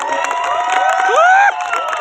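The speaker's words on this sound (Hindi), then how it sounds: "एक बार मैं चाहूंगा कि जोरदार तालियां हो" An audience at a gathering at Uday Bagh resort in Jaipur, Rajasthan, cheers loudly, with sustained voices and rising whoops blending into one bright crowd sound that cuts off abruptly near the end.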